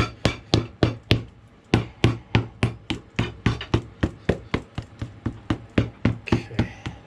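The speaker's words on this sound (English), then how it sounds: "I like to make sure I hammer everything down the center as much as possible first" A hammer pounds a new Vibram Sierra sole onto a Thorogood boot over a Vibram Cristy sole: about two dozen sharp, close strikes in a steady, quick rhythm, with a short pause partway through.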